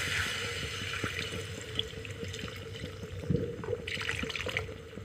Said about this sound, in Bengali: এখানে দিয়ে দেব জল।